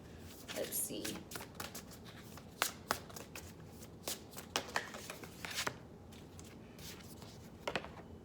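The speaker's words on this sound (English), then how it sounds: "Let's pull one more oracle for my Leos." Oracle cards are shuffled by hand at close range, giving soft papery riffles and sharp flicks in uneven bursts that are quiet and heard alone.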